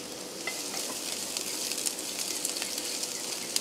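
Sliced ginger and onion sizzling in a hot pan, a steady close frying hiss with small crackles and pops throughout.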